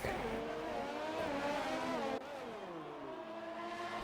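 Formula racing cars scream around a track in a racing video game, a steady high engine whine with shifting pitch from one car, then a drop to a lower tone as it changes gear, no voices heard.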